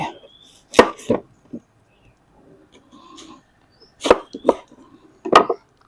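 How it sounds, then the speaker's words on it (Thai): Knife chopping an onion on a cutting board, a few sharp, close chops in small bursts separated by quiet pauses, no talking. "หั่น หั่นผักครับ เตรียม หอมใหญ่"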